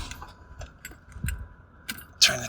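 Key turned in the ignition of a 1998-2003 Jaguar XJ8 X308, a few faint metallic clicks and a light jingle of keys, ending in a sharper click, close by and quiet.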